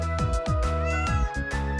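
A cat meows several times in quick succession, close and clear, with drawn-out tonal cries and no talking.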